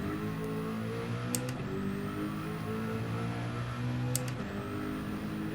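Quiet engine note of a modified race car in the WTC800 racing game, a steady droning tone that climbs gradually as the driver gets on the throttle, with two brief high clicks partway through and no talk.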